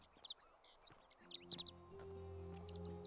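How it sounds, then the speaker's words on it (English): A bird in The Forgotten City video game gives bursts of sharp, high chirps, close and fairly loud, first alone and then over a low, steady ambient hum. "It's a very noisy bird."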